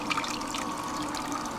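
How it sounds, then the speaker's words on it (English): Water recirculated by a 12-volt, 1100 gallon-per-hour bilge pump, heard as a steady close splashing and trickling flow, moderately quiet, with no voices. "The water is pumped out of this barrel here by this 12-volt, 1100 gallon per hour bilge pump"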